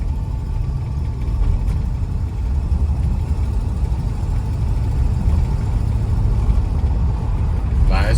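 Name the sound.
1965 Buick Riviera car engine while driving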